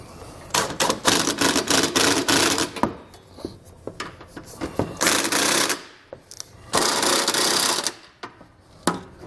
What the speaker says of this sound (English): We're going to use a 3/4-inch socket to tighten all of our hardware.